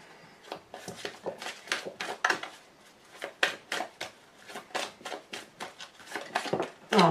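Tarot cards being cut by hand, a run of crisp papery snaps and flicks in irregular bursts, close and fairly quiet, with no talking.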